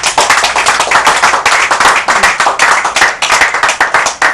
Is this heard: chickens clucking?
no